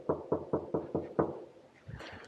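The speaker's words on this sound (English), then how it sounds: "Ooh, forgot to knock." Six firm knocks on a door in a quick, even rhythm, close and clear, followed by a faint shuffle during a food-delivery drop-off.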